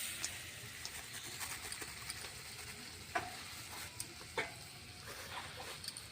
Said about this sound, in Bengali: কাজুটা একটু ভাজবো, না ভাজলে একটু কাঁচা কাঁচা গন্ধ আছে